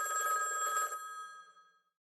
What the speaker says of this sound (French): jusqu'au moment où, un jour, le téléphone sonne